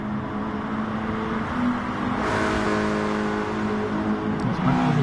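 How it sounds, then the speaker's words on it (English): A Volkswagen Scirocco race car in GT Sport on the Goodwood circuit accelerates with a steady mid-pitched engine drone that swells and climbs through the gears, fairly close and alone. "That Scirocco is very quick in a straight line"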